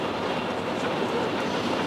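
Inside a train travelling from Osaka to Tokyo as it runs into a tunnel, a loud, dense, steady roar of rushing air and rolling wheels that fills the carriage, with no talking.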